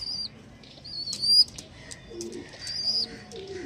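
Andhra Madras pigeons coo softly in low murmurs, mixed with brief wing flutters and a few thin high whistles, close and fairly quiet.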